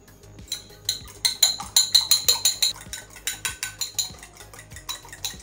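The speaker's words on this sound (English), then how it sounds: "So right now we are just going to whisk the egg together." Eggs whisked in a bowl with a utensil, a steady run of quick rhythmic clinking taps that build and then ease off, close and clear with no talking.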